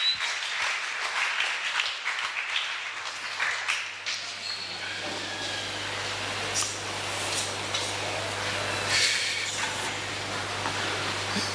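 A church congregation at a Sunday service bursts into sustained applause that fades into a steady low hum of the room, loud at first and then settling, with no clear speech.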